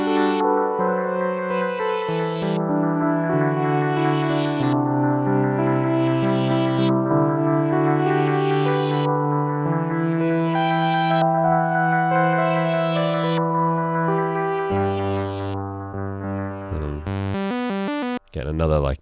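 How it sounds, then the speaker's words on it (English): A sustained synth pad built from a Moog MG-1 tone generator, with slow chord changes swelling through a steady loud wash of tones, ending in a brief bright glitchy burst; no voices. "takes that particular tone source and turns it into this kind of pad sound."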